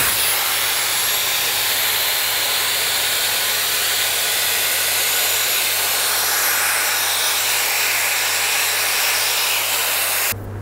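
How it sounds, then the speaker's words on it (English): A Shark Air Styler hair dryer blows loudly and steadily at high airflow with a constant whooshing roar, cutting off right at the end. "take your hairdryer, take your left nozzle."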